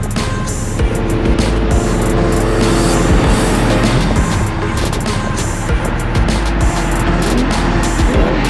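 A 20-year-old Ford Mustang S197 3-valve retro muscle car drives on the road, its loud, steady engine drone and road rumble filling the cabin continuously with shifting low tones and no talk.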